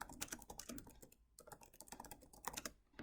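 Steady typing on a computer keyboard while entering audit details into software, a quick close run of light key clicks with a brief pause midway, quiet and alone.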